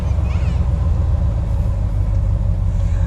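An old truck's engine runs steadily while driving, a loud continuous low rumble with road noise throughout and no talk over it.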